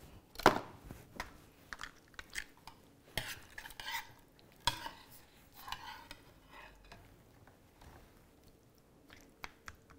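A wooden utensil stirs vegetable lasagne in a pan, the sheets bathing in sauce, giving soft scraping and squishing strokes at an irregular rhythm, close and moderately quiet with no talk.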